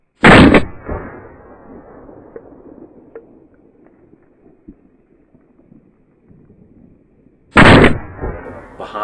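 Two loud shotgun blasts fired while duck hunting on the Colorado River late in the season, one at the start and one near the end, with quiet outdoor ambience and faint handling noises between them.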